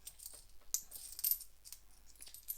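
Silver coins clink and jingle softly as they are handled and counted, a scattering of faint metallic taps close by, with no talking.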